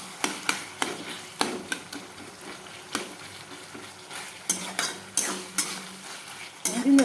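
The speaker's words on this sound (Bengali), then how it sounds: "মাংসটা দিয়ে দিলে মাংসটা ভাজা ভাজা হবে।" Chicken pieces sizzle in a pan while a utensil scrapes and knocks against it in a rhythmic series of sharp stirring strokes, close and clear over a soft frying hiss.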